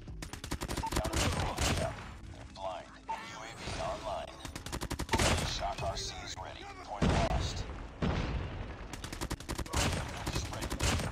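Rapid bursts of automatic gunfire from a gold M4 rifle in the mobile shooter Call of Duty Mobile, loud and close, coming in several long volleys with short gaps, over constant in-game noise.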